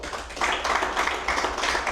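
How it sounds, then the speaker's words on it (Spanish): Congregation clapping in praise during a church service, a dense, steady wash of many hands sustained throughout at moderate loudness, with no voices standing out. "Denle un aplauso de alabanza al Señor."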